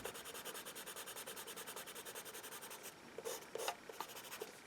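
A Musgrave number 2 pencil scratches across paper in quick regular back-and-forth strokes, very close and quiet, then a few slower, separate scribbles.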